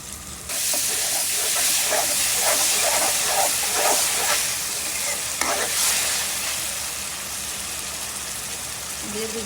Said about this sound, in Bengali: ভাজা হতে থাক